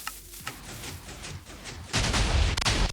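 A sand comp cannon on a 100 Stacker Duel RC model fires in sharp bursts, a few quick blasts followed by a louder, sustained rushing burst near the end, close and loud.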